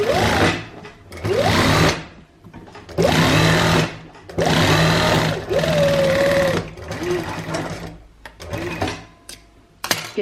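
A sewing machine runs in several bursts stitching along the edge of a kameez sleeve, with short pauses between runs and a steady whirring, close and loud.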